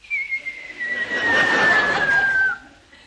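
A single long whistled tone slides slowly downward for about two seconds, imitating something falling, loud and close, then stops.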